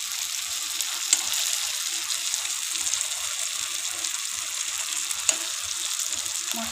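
Spice masala for a goat head curry fries in a pan with a steady, close, bright sizzle and a couple of sharper crackles. There is no talking.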